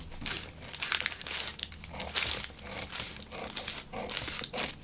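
Scissors cut through a paper dress pattern along a dart line, giving close, steady crinkling and snipping of paper throughout.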